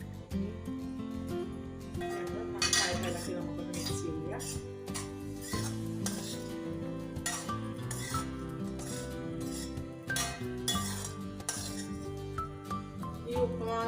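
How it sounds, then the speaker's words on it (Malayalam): A spoon stirs and mixes rava with salt in a metal vessel, making repeated close clinks and scrapes at an uneven rhythm, with a voice faintly in the background. "നന്നായിട്ട് ഇളക്കി നമുക്കൊന്ന് മിക്സ് ചെയ്യുക"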